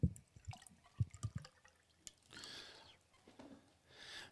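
Water is poured into a new ceramic mug up close, quiet glugging and drips at first, then a soft steady stream, with faint rooster sounds in the background.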